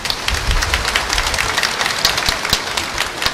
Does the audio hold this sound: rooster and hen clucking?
no